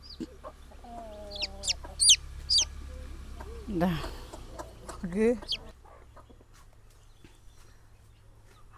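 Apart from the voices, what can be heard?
hens clucking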